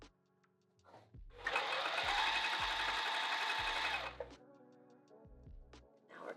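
A sewing machine runs in one steady, whirring stretch of stitching through fabric, close and moderately loud, framed by soft handling clicks and low thumps before and after.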